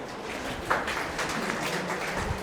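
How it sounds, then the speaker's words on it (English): A classroom audience clapping, a soft, dense patter of many hands that runs for a couple of seconds, heard at a distance. "Clap for him"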